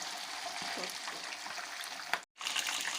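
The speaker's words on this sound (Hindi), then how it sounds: "चिकन को डीप फ्राई करना है, शैलो फ्राई नहीं करना।" Chicken deep fries in oil, giving a soft, continuous bubbling sizzle at low level, broken by a brief sharp knock and a moment of near silence before the frying resumes.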